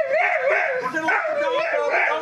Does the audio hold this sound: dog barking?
yes